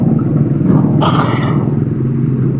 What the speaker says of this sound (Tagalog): Ang loud ng motor.